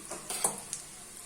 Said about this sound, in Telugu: బొంబాయి రవ్వ వేసుకొని ద్వారగా వేయించుకోవాలి